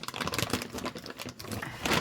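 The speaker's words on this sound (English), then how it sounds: "let's get a pair of scissors, get this open and see what we've got" A plastic bag of costume jewellery is cut open with scissors, giving close, faint crinkling and snipping rustles throughout.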